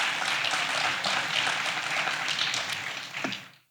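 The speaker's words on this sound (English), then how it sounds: "let's give SACEP a round of applause for that" Applause from a gala dinner audience honouring a sponsor: a dense, continuous wash of many hands clapping at steady strength before thinning and dying away at the end, with no talk over it.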